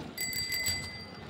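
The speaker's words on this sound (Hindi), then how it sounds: "घंटी मारो घंटी मारो।" A bell on a child's new bicycle rings in a quick burst of several bright metallic dings, fairly close and clear over quiet outdoor background.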